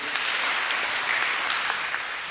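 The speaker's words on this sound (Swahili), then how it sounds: "Kanisa tuwapigie makofi mazuri." A church congregation at a PCEA Kikuyu-language service applauds guests, a steady, even wash of many hands clapping at moderate distance with no talk over it.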